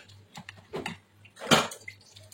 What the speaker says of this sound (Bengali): এই যে বাসন সবটি সিঙ্কের মধ্যে রাখছি